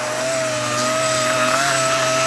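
Barn wood mantel knot being rounded off with 80-grit abrasive: a steady, close, continuous whine with a rough gritty hiss throughout, no pauses.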